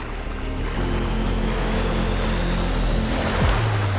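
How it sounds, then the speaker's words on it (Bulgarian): Rough ocean waves at night in the Molokai Channel, Hawaii, during a stormy crossing with strong winds: a loud, continuous broadband surge and wash with a low rumble underneath. "Вълните ме заливаха от всички посоки"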